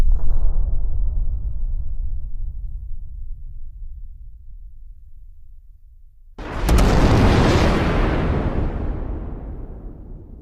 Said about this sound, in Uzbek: 5 soniyadan so'ng portlaydi